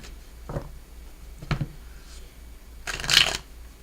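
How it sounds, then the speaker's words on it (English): A tarot card deck being shuffled in a few quick riffled bursts, the last one longest and brightest, close and clear with no talking. "Oops, that was a really bad shuffle."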